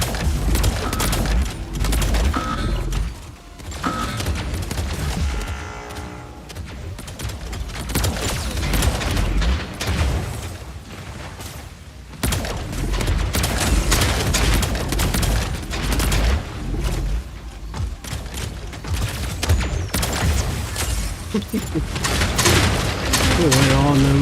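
Fused mortar weapons fire in the mech combat game Mech Arena as a dense, rapid barrage of booming blasts. Mechanical clanks join the loud, nearly continuous volleys, with only brief lulls between them.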